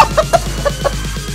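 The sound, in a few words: hen clucking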